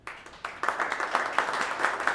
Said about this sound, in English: Big round of applause for Rishi.